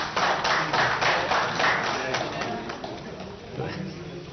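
A television news studio audience applauds to welcome a guest, a dense burst of clapping that fades gradually while a voice speaks over it.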